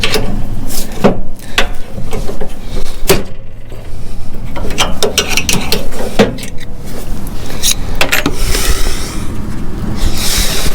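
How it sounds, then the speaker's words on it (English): Hand working a cotter pin and hitch pin out of a hole on a mower hitch: close metallic clicks, scrapes and rattles in irregular bursts, loud and busy throughout. "So I'm trying to remove this pin out of this hole"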